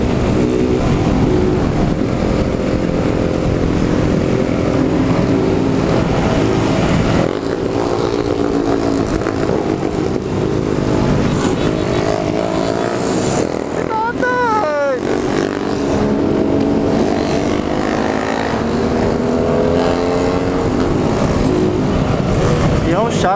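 A group of motorcycles rides through a favela neighborhood, loud continuous engine drone with rising and falling revs close by, while people talk over the noise throughout.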